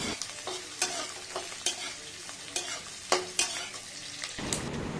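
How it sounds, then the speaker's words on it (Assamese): Onions frying in a pan for a banana stem kol posola dish, with a steady sizzle under repeated scraping stirs of a spoon against the pan, close and fairly loud, with no talk. "এইখিনি পিঁয়াজ লৰাব ভালদৰে"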